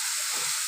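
Masala spice paste sautéing in a pan while cauliflower and potato curry is cooked, a steady broadband sizzle and hiss at moderate level throughout, with no talking.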